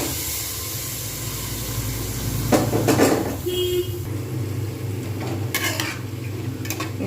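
Soaked matar dal is tipped into a hot pan of spices and stirred, giving a brief loud scrape and clatter of a spatula against the pan over steady background kitchen noise.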